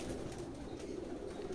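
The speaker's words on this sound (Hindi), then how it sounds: "ये नीचे के कबूतर" Pigeons cooing in a crowded loft holding hundreds of birds, a soft continuous low burbling chorus from many birds at close range, fairly quiet with no speech.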